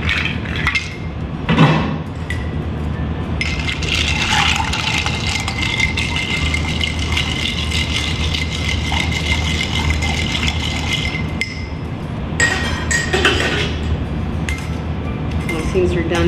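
Ice clinks and rattles steadily in a glass as a rum cocktail is stirred, a close continuous jingle with a few louder knocks, while someone talks over it.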